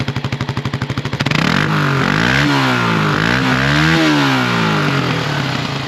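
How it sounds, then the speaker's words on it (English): A stock 1995 Kawasaki KLR 250 single-cylinder dual-sport with original exhaust chugs at a fast, even idle, then revs up sharply and holds high, its pitch swinging up and down through several throttle blips, loud and close. "Give me a little rev. Little rev."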